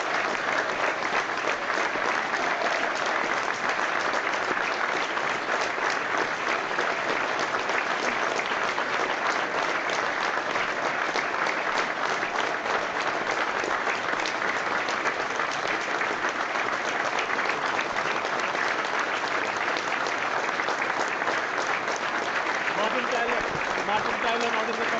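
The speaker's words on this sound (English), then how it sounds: "We're paying tribute now with a minute's applause to Marvin Morgan" A football crowd at an Aldershot Town v Woking match gives a sustained minute's applause in tribute, steady dense clapping that holds evenly throughout without a break.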